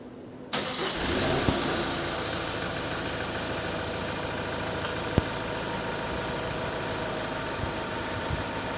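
A car engine cranks and catches after a moment of quiet, then settles into a steady idle with faint clicks.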